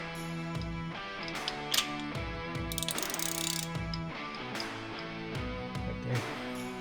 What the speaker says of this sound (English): Put a wrench on that.